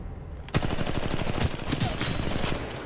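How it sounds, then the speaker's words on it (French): After a quiet start, loud rapid automatic gunfire from Titanfall 2 multiplayer rattles without a break, its evenly spaced shots filling the rest of the stretch. "Les effets d'armes, je les trouve pas super GG"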